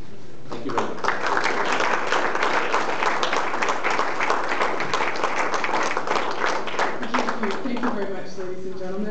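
An audience at a formal speaking event breaks into sustained, dense applause lasting several seconds, loud and close, with a voice faintly heard beneath it.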